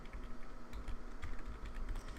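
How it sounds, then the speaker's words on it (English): Quiet, rapid keystrokes on a computer keyboard as a networking command is typed into a console, an uneven run of soft clicks heard alone. "the problem is if you're typing a command like show"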